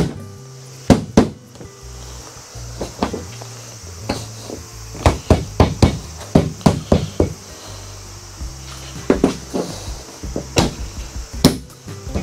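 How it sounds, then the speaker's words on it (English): A carbon bonnet fitted with bonnet pins on a Toyota Altezza is slammed and knocked repeatedly, giving dozens of sharp, close hollow thuds and clacks in irregular clusters. "Oh, even slamming it."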